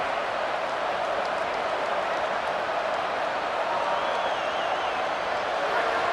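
Football stadium crowd at a Texas Longhorns game building to a sustained roar, broad and steady noise from a large crowd with faint voices and whistles mixed in, continuous for several seconds.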